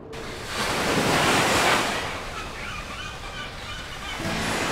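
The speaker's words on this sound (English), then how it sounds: "On the busy dark waves crash loud." Ocean waves crash in Symphony of War, a loud surging roar of surf that swells early, then eases into a steady wash with light wind noise.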